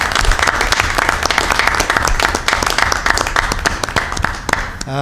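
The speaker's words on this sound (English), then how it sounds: "I'd like to give them a round of applause" A round of applause at a Rutherford board of education meeting for state champion academic decathlon winners: loud, sustained clapping from a room of people, tapering off near the end.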